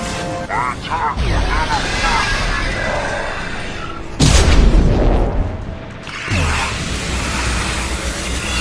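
Heavy booming blast of a high-impact weapon shot in a video game, with loud thuds and crackling impacts over a dense action soundscape, plus a second big boom partway through.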